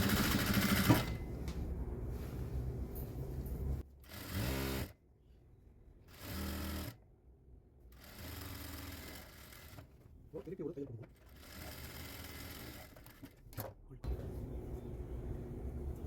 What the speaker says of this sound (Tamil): ஸ்ட்ரைட்டாக ஒரு தையல் போட்டுருவோம் கரெக்டாக அந்த மார்க்கிங்கில்